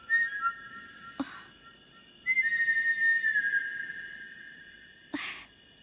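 A person whistles in sustained, sliding tones, with a short opening phrase and then a long held note that bends downward, broken by sharp breathy bursts. No one speaks.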